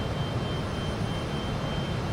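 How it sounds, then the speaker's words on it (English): A Fokker F28 jet in a flight simulator roars steadily on its takeoff run, a constant broadband engine drone without pauses. "the airplane should just lift off the ground very nicely"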